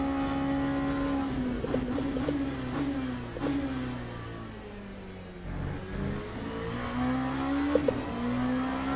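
A Ferrari race car engine in the Le Mans Ultimate racing game, revving up and down through several gear changes in long sweeping pitches, with no talk over it.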